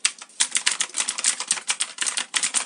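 A STOGA mechanical anti-ghosting computer keyboard clatters with rapid, steady keystrokes, close and crisp, in a continuous burst of typing with no talk.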